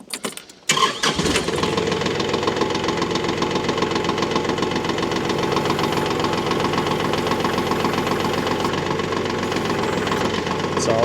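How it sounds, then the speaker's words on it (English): A cold tractor engine starts up and runs rough, a loud, knocking diesel idle that stays steady and close for several seconds after a brief sputter at the start. "Tractor's pissed because I didn't let it warm up enough."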